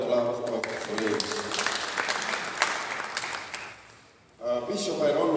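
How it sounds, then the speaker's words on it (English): A church congregation claps together in a steady, dense round of applause that briefly dies away and then starts again, with a voice speaking over parts of it. "Would you give the Lord a clap for your colleagues?"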